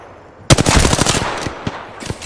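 Rapid automatic gunfire in a battle royale shooter cracks out close and loud, a dense burst of shots that trails off into scattered single rounds.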